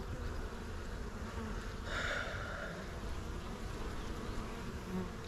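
Honeybees buzz at a weak hive in a steady, dense hum that carries on throughout, a little louder for a moment midway, with no talking.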